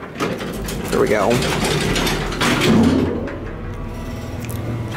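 An ancient original Montgomery traction elevator motor running in a landmark convention center machine room, a loud continuous mechanical whir with ratcheting, gear-like clatter and a low hum throughout, with someone talking briefly over it.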